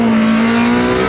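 Honda EK fitted with a K20Z3 engine revving hard on a dyno pull, a loud, steady high-pitched engine note holding one pitch and rising slightly toward the end, with no talk.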